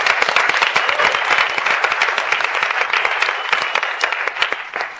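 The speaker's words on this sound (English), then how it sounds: "can we have a round of applause for Steve and his group?" Audience applause for Steve and his group fills the room, a dense, steady wash of many hands clapping close by, holding strong throughout without voices over it.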